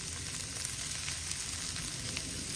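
Onions frying in oil on a Blackstone flat-top griddle, a steady close sizzle with soft crackling that runs evenly throughout without talk.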